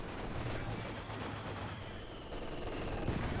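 Mortar fire and battle noise from the strategy game Company of Heroes 2, rumbling low blasts and crackling gunfire layered into a busy, fairly quiet wash of combat.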